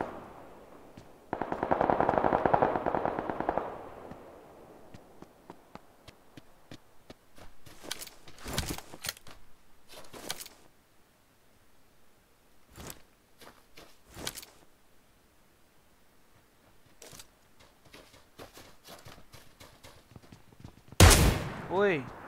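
Kar98k bolt-action rifle shots fire close by in the PUBG Lite battle royale game. Isolated sharp cracks come several seconds apart and the last one is loudest, with someone talking in between.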